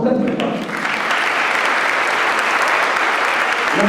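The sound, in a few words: audience applauding the athletes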